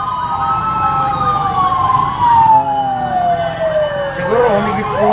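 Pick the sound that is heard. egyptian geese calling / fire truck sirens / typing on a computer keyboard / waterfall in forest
fire truck sirens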